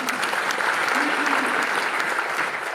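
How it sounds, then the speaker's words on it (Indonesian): A church congregation claps steadily in praise of Jesus, a dense, even burst of applause that runs throughout at moderate volume. "tepuk tangan dulu buat Tuhan Yesus"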